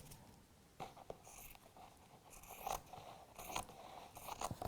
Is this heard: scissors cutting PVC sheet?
yes